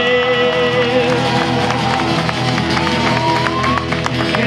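Audience applause at a children's band concert at a festival, a steady crowd clapping that runs throughout, loud and continuous, mixed with some tonal sound.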